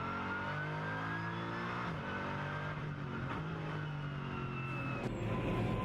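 GT3 race cars, among them the number 77 car trailing an AMG GT3, drive the Shanghai circuit during an Asian Le Mans Series three-hour race. Their engines drone steadily, with pitch shifts as they accelerate and change gear.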